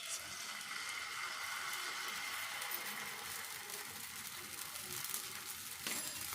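Rava batter for onion upma hits a hot pan and sizzles in a steady, dense hiss that fills the whole stretch, with no talking over it.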